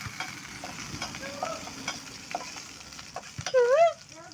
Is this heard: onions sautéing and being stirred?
yes